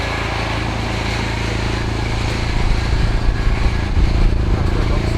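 A Ford Fiesta Zetec S Black Edition with a Cobra exhaust fitted runs steadily outdoors, a loud, continuous engine drone with a slight swell in the second half and wind noise mixed in.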